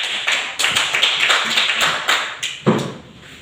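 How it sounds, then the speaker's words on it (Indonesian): Classroom applause for a student presenter after a talk on the solar system, heard as a burst of close, uneven claps from a small group, a few sharper slaps standing out near the end. "kita berikan aplaus kepada teman"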